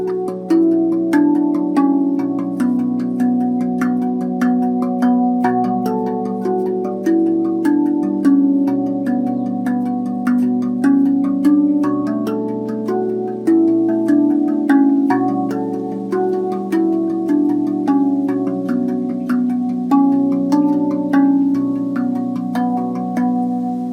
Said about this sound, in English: That's our kurd scale.